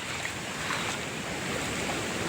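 Fast-flowing floodwater rushing across a road during heavy rain, a loud, constant roaring wash with a windy texture and no pauses.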